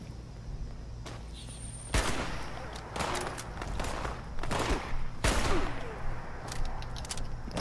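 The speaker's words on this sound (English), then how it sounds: "we're getting shot at" Gunfire rattles through a Fallout 76 firefight, with repeated sharp shots and several louder cracks spread irregularly over several seconds against a busy background of game noise.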